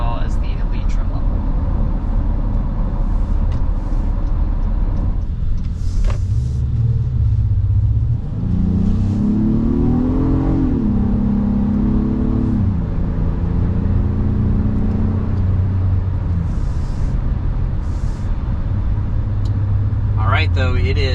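A 2022 Honda Passport TrailSport SUV travels a flat highway, its steady road rumble and engine drone rising briefly in pitch mid-clip, with a person talking over it inside the cabin.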